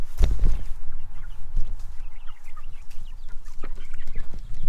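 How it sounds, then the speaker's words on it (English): Backyard hens in a poultry pen give scattered, moderately close clucks and short calls over a steady low rumble of outdoor noise. "Get you a view of the actual hens."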